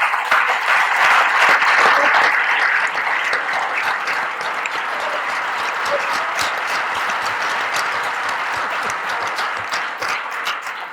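A large crowd at the presentation event of a Spanish historical association applauds Francisco Zaragoza, loud, sustained clapping that stays close and dense for about eleven seconds before easing slightly, with no talking over it.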